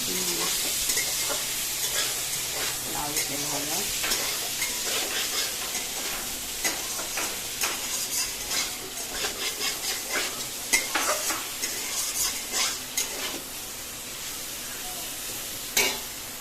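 Pointed gourd (parwal) fries in oil in a pan with a constant sizzle, punctuated by repeated scraping and stirring clicks, close and moderately loud.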